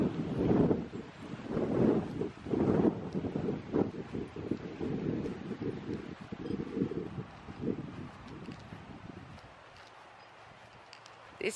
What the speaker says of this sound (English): Oh, boy, the wind's bad.